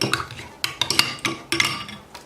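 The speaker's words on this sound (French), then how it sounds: "et vous allez mettre une cuillère de café à l'intérieur. Et vous allez remuer." A spoon stirs coffee in a cup of hot water, clinking sharply against the sides in a quick irregular run of close, bright taps that fade toward the end.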